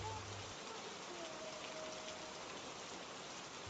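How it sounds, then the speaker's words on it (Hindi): Heavy rain pours steadily outside in an animated story scene, a dense, even hiss that stays constant throughout without pause. "बाहर बारिश पहले से भी तेज हो चुकी थी।"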